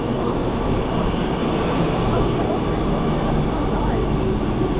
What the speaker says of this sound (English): And here's the train.